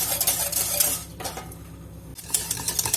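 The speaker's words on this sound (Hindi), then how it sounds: "और हिलाते जाएंगे, अगर हम इसको हिलाएंगे नहीं तो फिर इसमें लम्स बन जाएंगे।" Custard is stirred in a cooking pan, with a spoon scraping and clinking against the metal in quick, close, uneven strokes.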